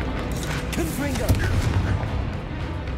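Confringo blasting spell cast in Hogwarts Legacy, a burst of booming, explosive impacts with crackling debris amid battle noise, loud and close, with a character's voice shouting over the blasts.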